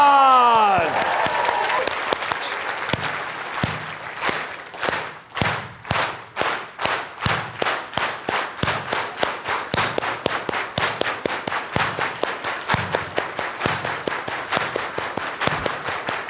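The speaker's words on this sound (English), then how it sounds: "Big round of applause." An audience breaks into loud applause that starts as dense clapping and settles into a strong, rhythmic unison clap with a steady beat, close and sustained throughout.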